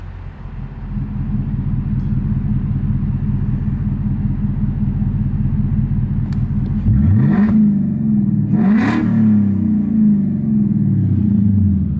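A Ford Mustang GT V8 with an X-pipe and electric exhaust cutouts opened idles with a deep, lumpy rumble, then revs hard twice with loud, open exhaust roars.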